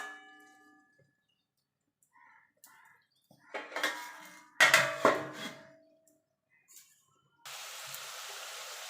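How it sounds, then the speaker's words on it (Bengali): Spice paste for a Bengali tangra fish tel jhal is stirred in a pan. A few sharp utensil clanks and scrapes against metal ring out, and a soft, steady frying hiss comes in near the end. "এবার মশলাটাকে ভালো করে কষিয়ে নেবো যতক্ষণ মশলার কাঁচা গন্ধটা চলে না যাচ্ছে আর মশলা থেকে তেল না ছেড়ে আসছে"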